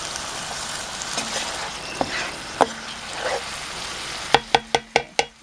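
Potatoes fry in bacon fat with a steady sizzle, stirred now and then, and a closing run of sharp, evenly spaced clinks from a utensil on the pan, with no talk.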